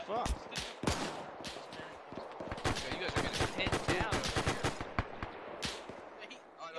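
Video game gunfire in a war shooter, with dense rapid bursts of shots and explosions cracking throughout, loud and close, with voices mixed in.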